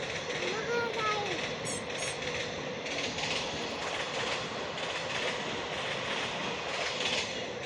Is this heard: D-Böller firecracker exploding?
no